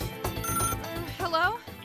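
A cartoonish telephone ring from the Freedom Planet video game sounds in short repeated electronic pulses, loud and close, with a warbling melodic phrase near the end.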